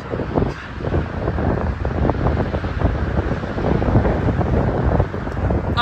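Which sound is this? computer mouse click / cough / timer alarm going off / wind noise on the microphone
wind noise on the microphone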